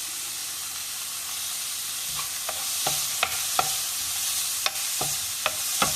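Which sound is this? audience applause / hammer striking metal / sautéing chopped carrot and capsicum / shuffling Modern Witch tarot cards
sautéing chopped carrot and capsicum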